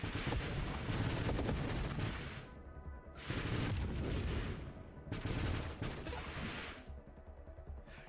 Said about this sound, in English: My allies are firing missiles that are almost as big as themselves.